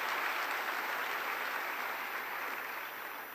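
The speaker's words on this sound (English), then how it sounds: "Can we give a big round of applause for our distinguished panel?" An audience at the Commonwealth Youth Forum applauds a panel, giving a dense, steady clapping that fills the room and tapers slightly toward the end, with no voices over it.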